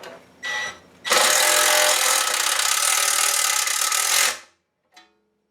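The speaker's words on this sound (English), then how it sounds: "come back with the small impact driver and then drive a metal tapping screw down the hole you just" A Chicago Pneumatic cordless impact driver drives a metal tapping screw, beginning with a short burst and then a loud, sustained buzzing run of about three seconds that ends abruptly, followed by a faint click.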